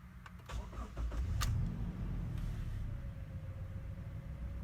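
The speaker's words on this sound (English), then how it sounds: "Now let us start up the engine." A first-generation Toyota Fortuner is started with a key: a few clicks, a brief cranking whine, then the engine catches and settles into a low steady idle, close by with no talk.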